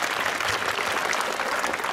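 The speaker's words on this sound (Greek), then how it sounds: "ένα χειροκρότημα δυνατό" A large audience at a closing celebration for Greek church catechism classes applauds loudly and steadily, a dense, continuous wash of many hands clapping at once with no gaps.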